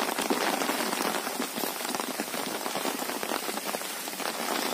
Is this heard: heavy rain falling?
yes